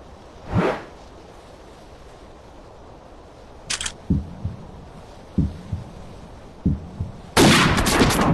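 A sniper rifle fires in the mobile hunting game Hunting Sniper, with one sharp crack early, a brief click, several soft thuds, then a loud sustained blast near the end, no talking.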